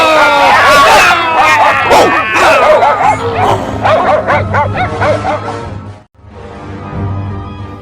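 Several dogs bark, yip and whimper in a loud, overlapping chorus that fades out near the end, with people's voices mixed in.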